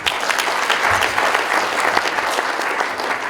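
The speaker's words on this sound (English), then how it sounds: "I didn't hear your powerful claps" A lecture audience at an annual public lecture series applauds at a panel session, a dense, continuous burst of clapping that holds steady the whole time, with no voices over it.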